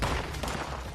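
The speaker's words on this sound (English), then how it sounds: "I really hate the sound of sporadic gunfire" Dense, steady crackle of gunfire in Fallout 76, heard at a distance with no clear separate shots, filling a short stretch with no talking.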